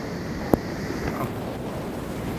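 Strong force-six wind and waves at the Lagi harbor mouth make a steady broad roar of surf and gusting air close to the microphone, with one brief sharp knock early on.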